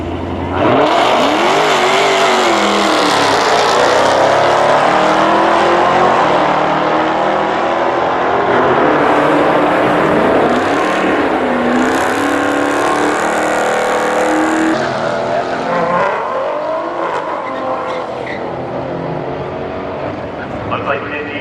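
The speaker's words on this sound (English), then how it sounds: "So the Jaguar F-Type is back. It's going to be going up against that Hellcat down there." A Jaguar F-Type and a Dodge Hellcat at a supercar drag race, engines roaring loud and sustained with revving swells and tire noise, crowd chatter and voices mixed underneath throughout.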